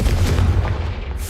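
A Confringo fire spell from Hogwarts Legacy on PC bursts as a loud, deep, rumbling blast. It holds as a sustained heavy boom for the whole moment, with no voices.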